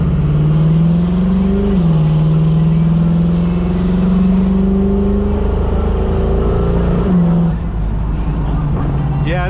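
Camaro engine revving while driving, a loud, continuous growl whose pitch rises and falls with the throttle, with faint voices under the engine.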